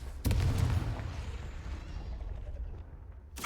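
Fire spell explosion in Hogwarts Legacy, a single loud blast with a booming low-end burst that decays into a long rumbling tail, followed by a short sharp hit at the end.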